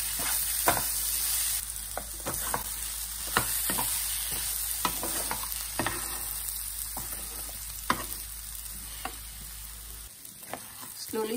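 Moong dal stirred in a pan as it cooks toward golden, a continuous sizzle and fry with repeated sharp scraping strokes of the spoon at an irregular rhythm, close and fairly loud.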